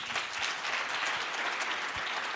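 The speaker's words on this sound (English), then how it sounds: "A round of applause." Audience at a startup cohort demo day gives a dense, steady round of applause, moderately distant and continuous throughout the short burst.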